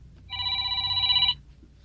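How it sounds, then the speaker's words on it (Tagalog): A telephone rings with a single electronic trill lasting about a second, close and clear over quiet background. "Si Kuya Val ang tumatawag."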